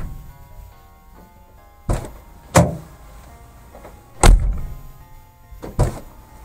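Door of a UAZ Patriot fitted with silent locks, shutting with four soft, muffled thunks spread across a quiet interior, each short and moderately loud with no voices.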